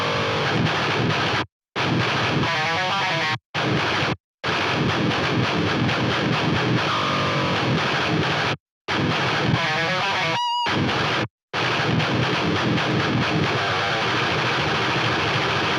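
Heavily distorted electric guitar track played alone through the Odin 3 plugin with the Archetype Gojira X amp tone, loud and dense with chugging riffs broken by several abrupt stops of silence.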